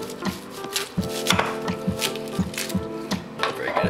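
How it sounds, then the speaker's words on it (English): A knife cutting through a regular white onion on a board, with a run of regular thudding chops about every half second, close and fairly loud over a faint background hum, with no talk. "First we want to do is cut off the tip."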